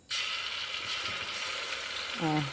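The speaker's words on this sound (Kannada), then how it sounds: "ಇದಕ್ಕೆ ಇವಾಗ ಬೆಳ್ಳುಳ್ಳಿ ಪೇಸ್ಟ್ ಹಾಕ್ಕೊಳಗತ್ತೀನಿ ನೋಡಿರಿ" Garlic paste hitting hot oil in a pan for chicken curry biryani, a sudden loud steady hiss of frying that holds throughout the brief moment, close up.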